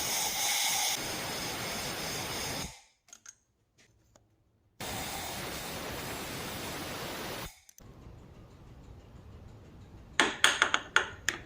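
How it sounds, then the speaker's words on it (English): Compressed air blowing dirt out of the spark plug wells on a motorcycle engine, two loud steady hissing blasts separated by a pause, then faint tool clinks at the end. "I highly recommend blowing them out with some compressed air before you take the plugs out"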